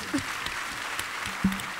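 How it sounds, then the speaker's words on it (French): Audience clapping at a French-language workshop event, a steady spread of many hands clapping at moderate level with no talk over it. "On peut applaudir ce parcours, s'il vous plaît."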